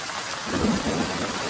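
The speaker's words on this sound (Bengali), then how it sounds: "টিপটিপ করে বৃষ্টি পড়ছে" A brief stretch of steady rain falling, with a low rumble beneath the even hiss.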